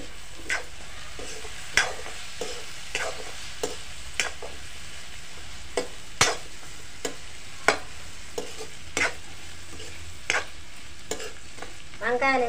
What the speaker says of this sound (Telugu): వంకాయలు వేసి మంచిగా కలిపి